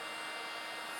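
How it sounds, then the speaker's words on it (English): A heat gun warming the surface of a Tesla Model Y before a rear spoiler is fitted gives a steady, even blowing roar, close and unchanging through the short moment, with no voices. "heat gun"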